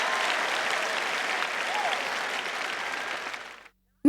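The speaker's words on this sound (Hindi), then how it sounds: "यदि आपको तालियां बजानी है तो पूरे उत्साह से बजाएं" Audience applause at a sermon on the mouth, steady even clapping from many hands that holds for several seconds, then cuts off abruptly into silence.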